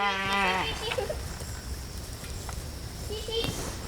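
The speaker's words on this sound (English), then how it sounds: "Lift that fence up and call sheep" Sheep bleat on a permaculture homestead: a few wavering calls near the start and again toward the end, over steady outdoor background, with a person's voice calling in between.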